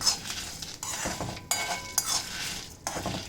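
A spoon scrapes and clinks against a pan while ingredients roast in a little oil, with a soft sizzle under the repeated stirring strokes and no one talking.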